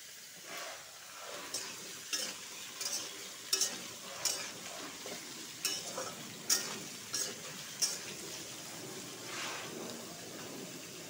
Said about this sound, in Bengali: পেঁপেটা আলুটার সাথে ভালো করে ভাজবো।